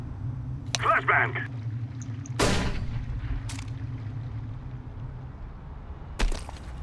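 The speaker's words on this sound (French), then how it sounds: "Flashbang." A flashbang grenade going off in Counter-Strike on the Overpass map: a sharp burst with a brief ringing tail over steady game ambience, with a few other sharp hits, fairly loud and close.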